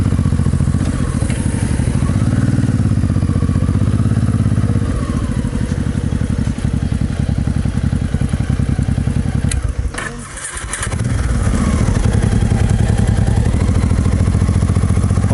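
A motorcycle with a sidecar runs steadily close by, its engine giving a loud, continuous throbbing rumble with a rapid pulsing beat, briefly dipping for a moment before resuming at full level.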